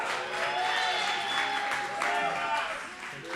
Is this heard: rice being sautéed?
no